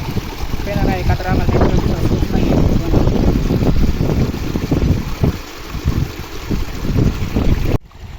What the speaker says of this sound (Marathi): आपण पाहू शकता झऱ्याचं खूप झऱ्याचं खूप सुंदर पाणी आणि या ठिकाणी अमोल भाऊ फ्रेश होतात